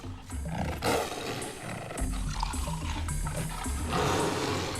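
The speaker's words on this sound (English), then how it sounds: "There's lions there." Lions roar in an enclosure, loud, continuous rough bellows with a few breaks, close and dominant over a noisy outdoor background.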